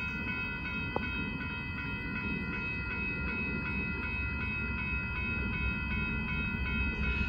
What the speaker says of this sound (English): Here comes Southbound Amtrak Texas, here goes Texas, here goes 21 now.